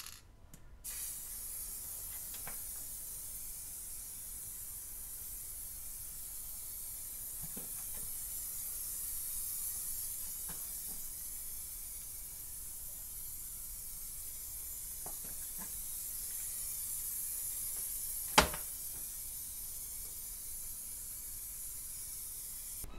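Rust-Oleum frosted glass spray paint hisses from the can in a steady, continuous spray during long side-to-side sweeps, close and even, with one sharp click near the end.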